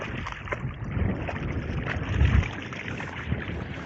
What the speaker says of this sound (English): It's a little bit windy today.